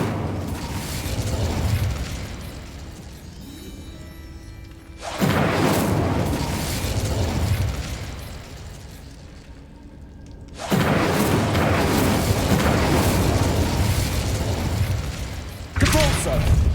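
A fire spell cast in Hogwarts Legacy, heard as loud booming whooshes of flame in long bursts separated by quieter game ambience.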